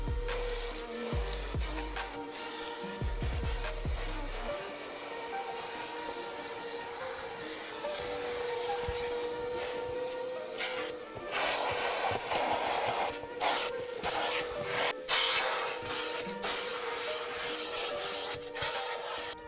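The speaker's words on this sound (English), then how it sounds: "let's try to get as much debris as you can with the vacuum first" A vacuum cleaner drones steadily with a constant hum, while scraping and rustling bursts come and go as debris is sucked up from a Tesla's interior. No one speaks.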